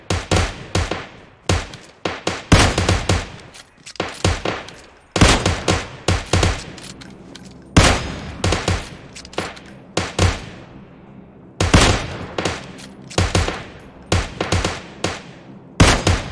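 Gunshots ring out in PUBG Mobile in repeated loud, sharp bursts of several cracks each, separated by short gaps and spread across the whole stretch, with no talk over them.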